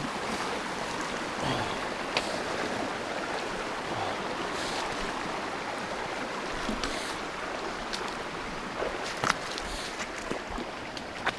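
Water splashes and sloshes continuously as someone wades through a cold, flowing stream on the Continental Divide Trail in Wyoming, with occasional louder splashes from steps.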